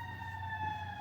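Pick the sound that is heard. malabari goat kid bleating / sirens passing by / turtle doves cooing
sirens passing by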